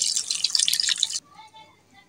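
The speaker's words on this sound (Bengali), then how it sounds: "মশলাটা কষানোর জন্য অল্প পরিমাণ পানি।" A small splash of water poured into a pan of spices frying with turmeric, coriander powder and ginger-garlic paste, a brief bright hiss and trickle lasting about a second before it settles to quiet.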